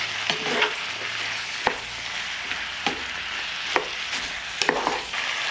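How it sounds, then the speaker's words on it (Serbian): Chopped onion and meat fry in a hot pan under a steady, bright sizzle. A spoon scrapes through the mixture at about six sharp, evenly spaced strokes, close up, with no talking. "Sve ću sad ovo promešati i nastaviti dalje da prži"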